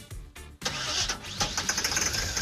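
A K20 truck engine cranks with the choke wedged open, a short burst and pause before it catches and runs roughly, loud and close, with no talking.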